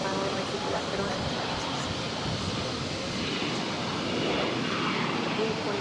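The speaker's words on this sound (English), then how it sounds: "This is a Bombardier Global 6000 taking off." A Bombardier Global 6000 corporate jet taking off from runway 22 right at Boston Logan, a steady broad engine roar that swells slightly toward the end, heard at a distance.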